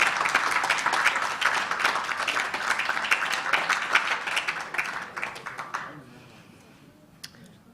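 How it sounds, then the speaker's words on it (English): Sustained applause from an audience at a retirement appreciation luncheon, steady clapping that fades away over the last seconds into near quiet. "I expected you to keep the applause going for Mrs. White"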